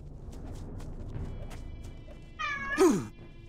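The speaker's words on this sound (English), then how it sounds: "My cat's making really weird noises." A pet cat lets out a loud, close meow that bends and wavers, rising near the end of a short stretch of low background noise, with a brief scratchy rustle before it.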